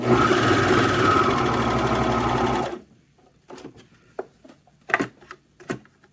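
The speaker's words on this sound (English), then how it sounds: "And then I continue to serge off." A serger overlocks a seam on a pair of sewn boxers: a loud, fast, steady mechanical whir runs close for about two and a half seconds, then stops, followed by scattered soft clicks and handling noises.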